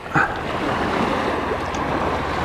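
Choppy sea water slaps and washes around a fishing boat during a national match fishing championship in Australia, a loud, continuous surge with wind buffeting the microphone.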